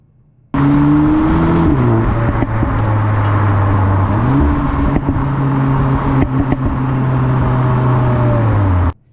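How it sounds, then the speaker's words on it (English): A 2023 Cupra Formentor VZx shifting on its paddle shifters produces a loud, close engine drone whose pitch steps up and down. A few sharp crackles and pops from the exhaust break through the steady roar. "The exhaust gets a bit burbly and you can hear pops and stuff like that if you start using these paddle shifters"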